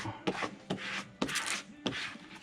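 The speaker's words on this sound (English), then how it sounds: "So we'll squeegee this out." A squeegee is pushed over a stencil on a memorial plaque, making four short scraping rubs at an even pace, close and quiet, with no talking.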